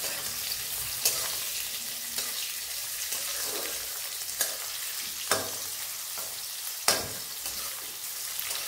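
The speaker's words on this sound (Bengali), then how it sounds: "পরপর আমি সমস্তগুলো ভেজে নেব" Chopped vegetables fry in a wok for fried rice, a continuous crackling sizzle broken by several sharp scraping stirs at regular intervals, with no talking.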